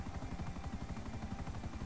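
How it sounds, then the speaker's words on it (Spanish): Helicopter in GTA V Online, a steady rhythmic rotor chop with a continuous engine whine, loud and close throughout with no talking. "Pero esta vez vamos a ir en este helicóptero."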